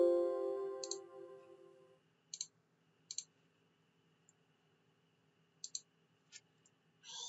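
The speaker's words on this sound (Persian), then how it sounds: "الان براتون تایپش کنم اینجا" Keys tapped on a computer keyboard while typing out an address: short, sparse clusters of close, quiet clicks separated by pauses, following a soft fading hum at the start.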